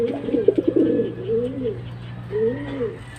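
Stock pigeons with Japanese leg rings coo in two soft phrases, a burst of rolling coos up front and another near the end, close and clear with no talk.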